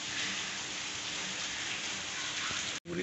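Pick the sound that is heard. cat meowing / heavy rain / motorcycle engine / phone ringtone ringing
heavy rain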